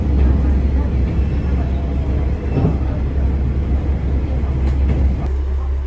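A train on the Yamaguchi Line rolls into Yamaguchi Station, heard from on board with a heavy low rumble and steady rolling noise throughout, with a voice talking over it.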